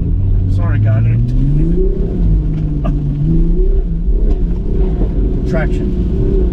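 A Toyota Supra engine fitted with a Pedal Commander drones and rises in pitch as it revs, the car bucking and surging unevenly under steady road rumble, with a voice speaking briefly over it.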